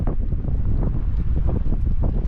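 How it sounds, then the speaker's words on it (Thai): Strong sea wind buffets a small fishing boat out catching sea catfish, a dense, steady low roar of wind noise across the microphone with gusty fluctuations throughout. "ลมแรงมาก"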